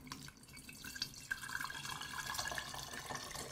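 Homemade chicken stock poured from a ladle through a strainer, a steady faint trickle with soft drips in a kitchen, no talking over it.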